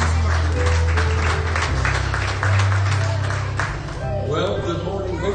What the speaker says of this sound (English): Let's give him a hand clap of appreciation this morning